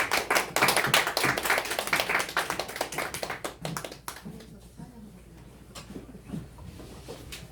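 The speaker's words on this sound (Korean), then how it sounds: "큰 박수로 맞이해 주시기 바랍니다" Clapping from an audience welcoming a speaker at an association's annual general meeting and year-end party, loud and dense at first, then thinning to scattered claps after about four seconds.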